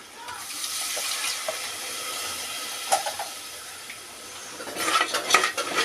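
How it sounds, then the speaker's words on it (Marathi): Water poured into frying masala with Kashmiri red chilli powder for green pea rice hisses and splashes in the pan, a running wash with clinks of a spoon, growing busier toward the end. "आता या मसाल्यांमध्ये थोडं पाणी टाकूया।"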